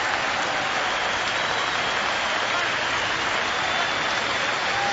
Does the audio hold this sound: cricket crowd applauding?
yes